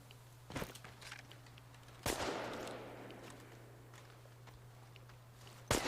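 Gunfire in the video game Chernobylite comes as a few sharp separate shots, one of them with a loud blast and a long decaying tail, spread over a low steady hum.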